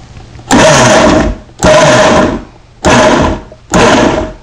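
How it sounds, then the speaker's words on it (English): A Vitamix blender purees fruit in four loud bursts, each about a second long, with a whirring roar and short pauses between the pulses. "This is our Vitamix we're using to puree these fruits together."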